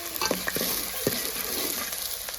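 Spices sizzle in hot oil in a frying pan while being stirred for a Gujarati sukal gumla dish, a steady crackling fry with scraping spoon strokes, close and alone.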